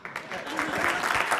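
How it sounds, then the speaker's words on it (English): An audience at a renewable cities forum applauds, the clapping building from light to fuller and steady across the moment, close and fairly loud. "Yeah, you can clap, it's awesome, they're awesome."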